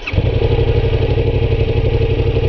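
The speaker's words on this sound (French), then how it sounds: "Le son est déjà mieux que la MT-07." A Yamaha XSR 700 motorcycle idles through its stock exhaust, a close, loud, even, pulsing twin-cylinder burble that carries through the whole short stretch without talking.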